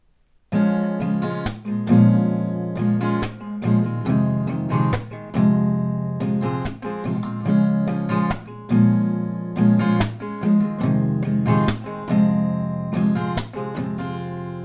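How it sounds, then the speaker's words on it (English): Acoustic guitar strummed through a repeating chord progression, steady rhythm with bright full chords, close and clear, no voices. "with that, we're gonna play this chord progression. It sounds like this."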